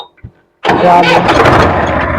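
A tractor engine cranks and catches after a short quiet moment, then runs loudly with a rough, rumbling idle close by.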